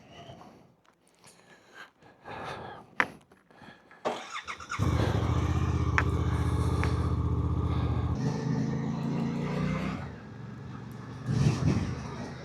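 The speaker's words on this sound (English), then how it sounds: "It's the Suzuki GSX8 TT. Let's give this some thrash." A 2025 Suzuki GSX-8TT motorcycle starts up and its engine runs with a steady loud rumble while riding on a country road, preceded by a few seconds of quieter handling noises and rising toward the end.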